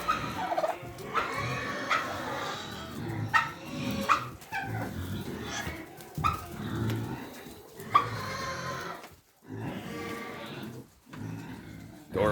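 Farm turkeys gobble in loud, repeated bursts close by at feeding time, the calls overlapping in a busy, uneven chorus with short pauses between flurries.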